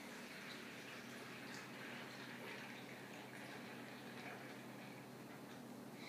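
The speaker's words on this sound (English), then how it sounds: "I'm going to pour it into this bowl with the dry ice in it" Water poured from a container into a bowl holding dry ice, a steady close pour with faint liquid trickling and light ticking throughout, no voices.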